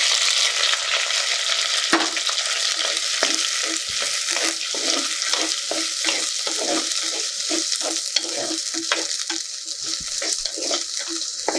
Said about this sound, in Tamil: இப்போ சுண்டைக்காய் இதில் சேர்த்துக்கலாம்.